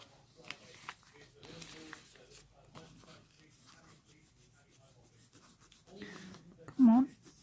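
A pencil rubs and scratches on fabric while a seam line is marked for a Tilda doll, with faint intermittent strokes, a voice speaking, and a louder voice burst near the end.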